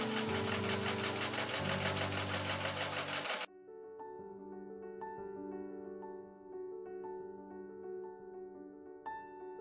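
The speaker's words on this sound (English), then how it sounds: "I do a few of bigger and simpler seams on machine" A sewing machine stitches seams on a small doll shirt, its rapid loud needle chatter running for about three seconds before stopping, followed by quieter background tones.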